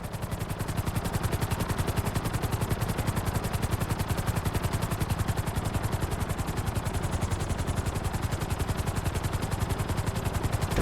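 A helicopter flies at full speed in GTA 5 flight school, its rotor chopping in a fast, steady, loud pulse that continues unbroken throughout.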